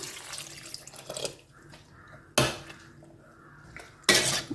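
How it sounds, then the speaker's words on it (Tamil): Water poured from a tumbler into a mixer jar in a home kitchen while making wheat sweet pongal, heard as short splashing bursts separated by quiet pauses, close and fairly loud. "மிக்சியை கழுவி கொஞ்சம் தண்ணி ஊற்றிக்கிட்டேன் ஒரு டம்ளர் ஊற்றிடுறேன்"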